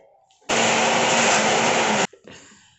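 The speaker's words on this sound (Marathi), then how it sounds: "आता पुन्हा हे मिक्सरला आपण बारीक करून घेऊयात" A mixer grinder whirs loudly and steadily for about a second and a half grinding coconut chutney with curd, then cuts off abruptly.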